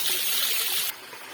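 A tiny jungle waterfall in the Jawadu Hills pours into a small stream, giving a soft, constant rush of water close by that drops suddenly quieter near the end.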